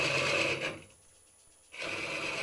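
HollowPro hollowing tool scraping and cutting inside a wooden bowl or vessel, a close rasping, grinding rub that breaks off for about a second mid-clip and then resumes.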